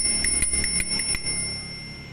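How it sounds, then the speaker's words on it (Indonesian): A stock bell on the original handlebar of a folding bicycle rings about six times in quick, even succession, close and bright, then the last ring fades away with no talking. "Ini bel dari sini ini."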